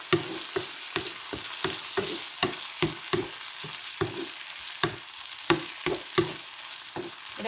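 Brinjal pieces sautéed in a pan are stirred and tossed with a spatula, making a steady rhythm of sharp scraping clicks over a low sizzle, close up with no voices.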